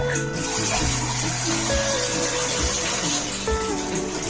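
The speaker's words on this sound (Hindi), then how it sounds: "हम इसको अच्छे से पानी डाल देंगे इसमें" Water pours steadily into a cooking pot for beef paya, a continuous loud splashing and gushing stream with no talk.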